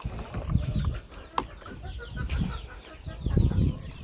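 Hens cluck and murmur in a backyard farmyard, scattered soft calls coming in bursts at close range, with a few sharper notes and faint background noise between.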